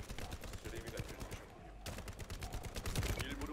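Rapid gunfire crackles continuously in the shooter game The First Descendant, a dense fusillade of close shots with a brief pause in the middle, no voices heard.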